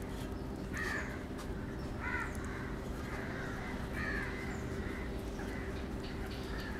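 Crows caw several times, faint and somewhat distant, during a home ancestral rice-ball offering ritual after a death, with steady low background noise underneath.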